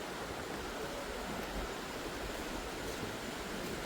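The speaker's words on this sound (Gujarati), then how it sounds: "નદીનો ખળખળ અવાજ આવે છે" A river babbling steadily near a Mahadev temple at dawn, a soft, constant rush of flowing water at moderate distance with no break and no voices.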